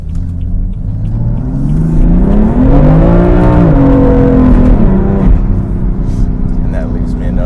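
Modified BMW M3 engine heard from the cabin while drifting and shifting gears, a loud droning rumble that rises in pitch, peaks, then drops with each downshift, ending in a lower steady idle-like hum.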